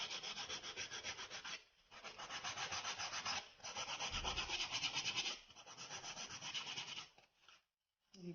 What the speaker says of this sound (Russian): Начинаю запиливать вот эти вот острые все края.